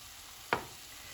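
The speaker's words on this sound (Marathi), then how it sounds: "हांव आतां सोया सॉस घालतां" Soy sauce hits mung bean sprouts in a hot pan, producing one brief, bright sizzle burst that fades quickly against a faint steady background hiss.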